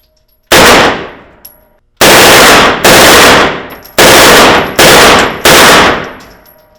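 A SAW squad machine gun fires full auto in six separate bursts, each a loud, dense rattle of close-range shots followed by echoing decay outdoors, and no voices are heard.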